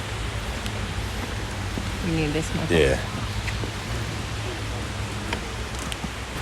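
Steady rain falling outdoors, a broad continuous hiss, with people talking close by over it.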